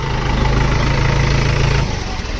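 A tractor engine idles close by in a steady, low, chugging rumble that drops slightly in level near the end.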